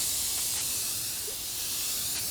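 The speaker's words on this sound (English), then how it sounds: "I'm spraying it with" A spray can of filler sandable primer sprays in a steady, continuous hiss over a lathe base already coated in etching primer, fairly faint and unbroken throughout.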